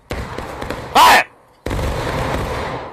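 A musket volley from an infantry line in the Civil War game War of Rights: one loud, sharp blast about a second in, followed by a quiet gap, then battlefield noise and voices talking.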